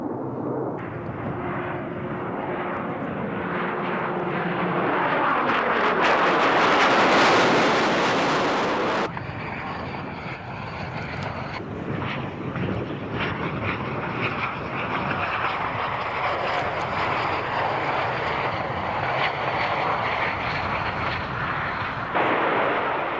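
Jet aircraft with two Rolls-Royce Adour turbofans roars past at a 1997 USAF airshow, a loud broadband engine rush that swells to a peak mid-pass, cuts sharply, then continues as a steady distant rumble.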